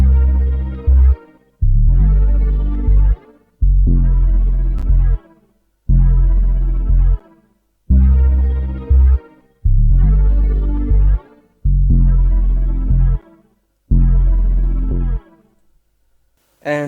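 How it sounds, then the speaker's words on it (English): A lush synth pad from the Xenology instrument plays a slow progression of sustained chords for a cinematic R&B sample, eight long held swells separated by brief gaps, loud and alone with no talking. "I started with a pad from Xenology playing the same chords"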